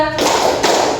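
A group claps twice in unison during a counting clap game. The two crisp, close claps land about half a second apart.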